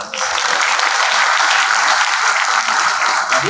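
Audience applause fills a hall at a talk on competitive exams and life, steady dense clapping sustained loudly throughout with no voices over it.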